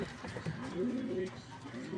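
Racing pigeon cooing during a fun race, low soft coos repeating steadily and close by under a man's speech.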